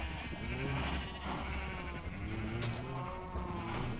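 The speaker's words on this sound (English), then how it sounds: "And the sheep are in the building." Blocky survival game sheep bleating indoors, several overlapping bleats repeated steadily at moderate volume over a constant background of game ambience, no voices.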